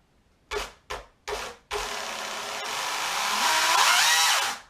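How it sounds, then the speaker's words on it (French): An electric chainsaw motor gives a few short revving bursts, then runs continuously with a steady buzzing whine that rises slightly before cutting off. "la mettre en route et après vous avez tout d'une tronçonneuse thermique classique"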